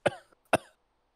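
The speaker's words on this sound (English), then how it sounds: "He coughs a little bit." Two short, sharp coughs about half a second apart, close and distinct, followed by silence.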